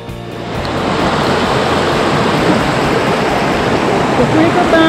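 Cascade de Thor, a waterfall at the edge of a village in the Lot, roars as a steady, dense rush of falling water close by, loud and continuous.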